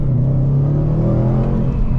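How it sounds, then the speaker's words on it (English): A Subaru WRX STI Type RA with an EJ25 turbocharged boxer engine gives off a steady, deep, uneven burble at low revs. It is heard close and loud for two seconds, with no voices. "Boxer rumble sounds fantastic."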